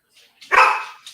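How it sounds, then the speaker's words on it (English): A single dog bark rings out loud and close, one sharp burst with a short trailing tail, heard alone during a tabletop game session held over voice chat. "I'm watching Giles's dog"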